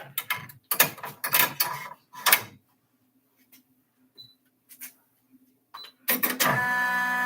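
An embroidery machine stitching runs in quick mechanical bursts of rapid clattering, pauses with faint ticks and clicks, then starts up again near the end, close and fairly loud.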